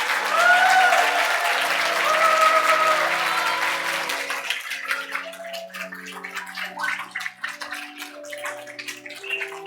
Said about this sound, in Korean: 우리 들어갈 때 우리 박수할까요?